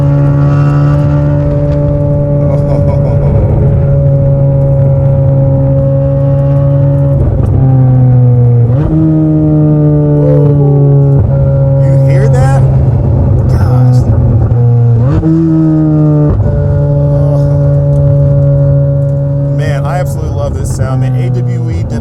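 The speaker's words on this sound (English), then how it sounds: "AWE did a really, really good job tuning the exhaust note for the C8 Z06" A Corvette C8 Z06 with an AWE exhaust accelerates hard through the gears, its loud droning exhaust note climbing and dropping at each shift, heard from inside the car.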